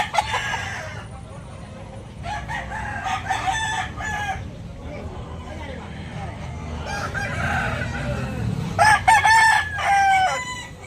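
A White Hackle rooster crows loudly and close by several times, with clucking and other fowl calls amid steady background noise.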